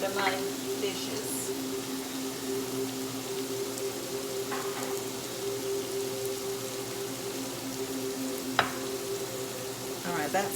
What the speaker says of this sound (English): So we're just gonna let that fry up here a little bit and get cooked.